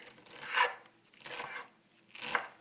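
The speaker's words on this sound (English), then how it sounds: "just go ahead and chop up the cilantro as fine as you can get it." Knife chopping cilantro finely on a board while preparing Dominican empanada filling, three soft, spaced rhythmic cuts, close and fairly quiet with no talk.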